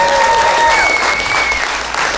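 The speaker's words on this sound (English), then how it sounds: "Give yourselves a round of applause for being here." Loud, close crowd applause at a comedy show, continuous dense clapping with a few whistles riding over it, easing slightly toward the end.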